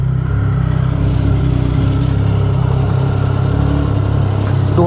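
A 2014 Triumph Speed Triple motorcycle with about 22,000 km on it idles steadily at close range, its low, even engine rumble continuing without pause.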